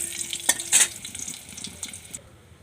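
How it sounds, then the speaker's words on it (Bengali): Eggs frying in a pan for an egg curry, a close crackling sizzle broken by sharp spatula scrapes and metallic clinks, and the frying noise drops off abruptly near the end. "ডিম ভাজা চলছে"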